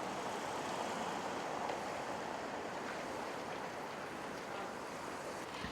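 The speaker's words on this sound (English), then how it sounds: "Water coming right through the middle of town." Steady, broadband rushing of water flowing through a channel in the middle of a Finnish town, a constant even wash with no talking.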